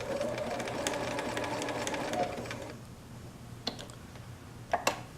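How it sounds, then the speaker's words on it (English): Sewing machine stitching a decorative pattern, a fast close-up mechanical whir with rapid ticking for a few seconds, then stopping and leaving only a couple of faint clicks. "I'll just do one of the decorative stitches for you"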